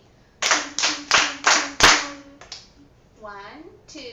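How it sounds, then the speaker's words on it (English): Children and a teacher clap a rhythm together in a classroom music lesson: five loud, evenly spaced group claps, then a couple of softer ones as a voice follows. "1, 2, clap with me."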